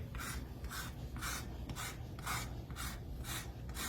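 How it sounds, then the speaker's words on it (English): Lemon zest being grated with a small microplane along the top of a whole lemon, a quiet, close series of about eight even rasping strokes in a steady rhythm. "I got a little micro planer here and a lemon, and I'm just gonna scrape along the top of this lemon"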